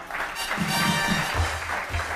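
A studio audience at a televised comedy and poetry stage show claps in a steady, dense wash of applause, with a faint musical tone underneath, for about two seconds.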